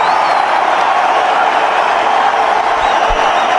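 Cricket stadium crowd cheers loudly and steadily throughout a one-day international against New Zealand, a dense, roaring wall of noise with no breaks.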